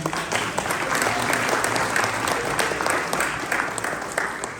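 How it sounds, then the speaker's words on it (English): Steady applause from an audience at a Muslim community fundraiser in New York, a dense, continuous wash of many hands clapping close by for nearly five seconds. "I want everybody to give a big round of applause for my brother just walked in, Brother Amir Sultan."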